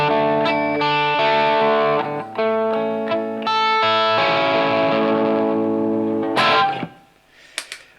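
An electric guitar with clear pickups, their volume turned down for a sweet tone, strummed and picked in ringing chords and single notes with a touch of effects, close and alone, ending in a brief scrape of strings.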